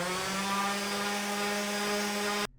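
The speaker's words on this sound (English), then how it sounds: "Do a little sanding." A power tool whirs steadily and loudly on thin wood stock for a handmade Valentine's or Mother's Day gift, then stops abruptly near the end.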